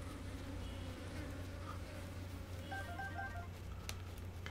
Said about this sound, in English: Let's get away from these bees.